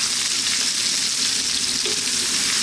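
Sliced onion with ginger and garlic frying in a very hot pan at maximum heat for a Chinese sweet and spicy fish dish, giving a steady, loud, unbroken sizzle with no one talking.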